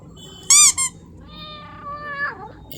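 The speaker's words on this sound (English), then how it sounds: "Our fat cute cat." A fat cat lets out two short, shrill, squeaky meows, then a longer, softer meow that drops in pitch at the end, all close and clear against quiet.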